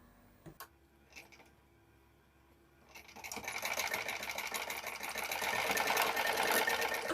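A sewing machine stitches strips of blouse fabric half an inch from the edge. A few clicks and a pause come first, then a fast, steady mechanical whir runs close by until the end.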